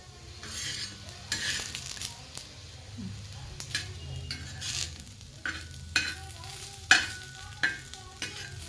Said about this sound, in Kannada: ಎರಡು ಸೈಡು ಚೆನ್ನಾಗಿ ಮೀಡಿಯಮ್ ಉರಿ ಒಳಗೆ ಹಂಗೆ ಫ್ರೈ ಮಾಡ್ಕೋಬೇಕ್ರಿ ಇದನ್ನ